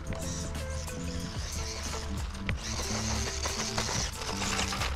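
A Tamiya Grasshopper 2 RC car with upgraded aluminum shocks running at full throttle, a continuous close whining, rattling motor and gear drone with shifting pitch.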